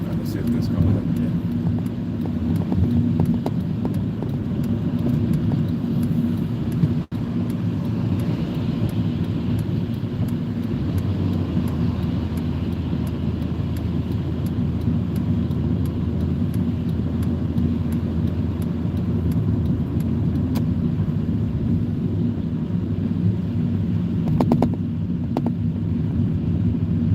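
Steady road and engine rumble from inside a moving car, a continuous low drone with wind noise that carries on throughout, while a person talks over it.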